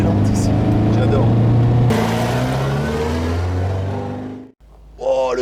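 A 1960s/70s convertible's engine purrs and revs in a steady, strong drone that tapers away, and a voice speaks briefly at the end.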